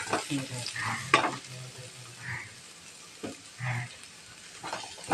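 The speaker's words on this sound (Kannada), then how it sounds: "ಕ್ಲೀನಾಗಿ ಫ್ರೈ ಮಾಡ್ತೀವಿ" Village-style country chicken frying in oil, stirred in a pan, with intermittent scraping stir strokes over a low steady sizzle and some faint voices in the background.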